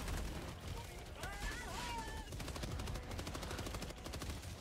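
Rapid gunfire from Helldivers 2 against Automatons, bursts of repeated shots rattling through a busy battle mix with some electronic warbling tones, while players talk over the action.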